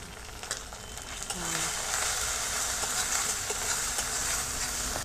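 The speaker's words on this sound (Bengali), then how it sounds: "এবার ভালো করে মিশিয়ে ভাজি নেব।" Spices with cumin paste, salt and turmeric fry in a pan for an egg dish, giving a steady, fairly loud sizzle that runs through without pause, with faint stirring beneath it.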